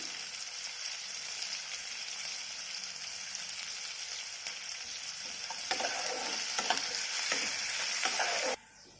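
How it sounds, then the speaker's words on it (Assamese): Onions fry in oil in a pan with a steady, close sizzle. Scraping stirs grow livelier toward the end before the sound abruptly drops away. "পিঁয়াজখিনি মই ভালদৰে ভাজি ল'ম ৰঙচুৱাকৈ।"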